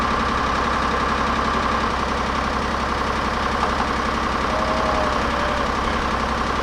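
A 1984 GMC General truck engine runs at a steady idle, loud and close, with a constant low rumble and a faint knocking rhythm throughout.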